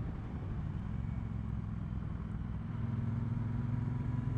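A Triumph Bonneville Bobber motorcycle downshifts from fourth gear at about 2800 rpm during a road test ride, its engine giving a steady low rumble that shifts in pitch partway through and then settles into a firmer throb.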